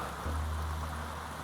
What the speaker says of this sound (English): Looks like great big raindrops, but it's not. We're getting the hail.